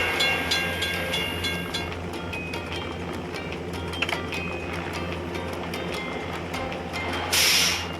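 In a kids' construction-vehicle video game, a train passes a closed crossing gate with a steady rolling clatter of wheels on track. Soft bell-like tones ring above it, and a brief hiss comes near the end.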